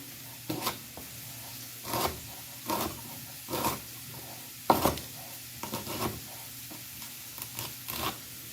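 Bacon fries in a pan under a low sizzle, broken by repeated scraping and stirring bursts every second or so from a utensil working the strips.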